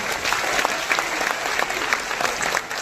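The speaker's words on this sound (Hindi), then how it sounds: "आपने जो तालियां बजाई हैं" Applause from a mushaira poetry-recital audience, a loud, continuous wash of many hands clapping with crisp individual claps standing out, sustained throughout without pause.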